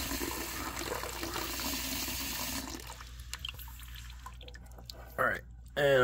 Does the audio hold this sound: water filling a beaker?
yes